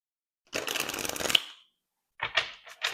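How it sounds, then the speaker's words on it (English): Tarot cards are shuffled in one riffling burst, and after a pause cards are drawn and placed with a few soft, quick flicks and slaps. All of it is close, and there is no talking. "Let's get some more cards out."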